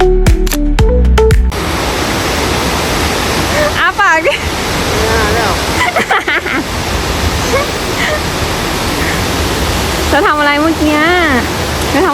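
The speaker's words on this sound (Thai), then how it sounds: "เราต้องบอกลาน้ำตกนี้นะ น้ำตกซอาทิงของเรา" Taranaki Falls near Whakapapa in New Zealand pours down in a loud, close, unbroken rush of water, with people talking now and then over the roar.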